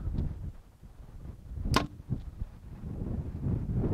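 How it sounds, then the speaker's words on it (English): An Xpedition Archery Xcentric compound bow, set at 29 inches and 70 pounds, looses a 408 grain arrow outdoors; one sharp crack of release sounds midway through a steady rumble of wind noise. "we're going to shoot the Xcentric through the chronograph here"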